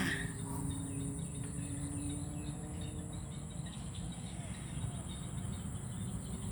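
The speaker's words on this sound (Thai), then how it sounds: "เสียงนกเสียงเขียด ธรรมชาติจริงๆค่ะ" In a waterlogged green rice field on a cool evening, a dense, continuous chorus of frogs and insects drones on, with faint bird calls barely rising above it and a murmur of distant voices.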